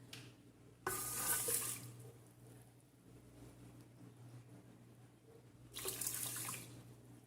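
Water poured into a rice cooker pot, two bright splashing bursts of running water close up, one early and one near the end, separated by quieter handling sounds, with no talking.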